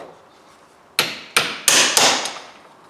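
A hammer strikes a socket to drive out a scrap motor frame, four loud sharp metallic blows close by after a quiet start, each ringing briefly before the next.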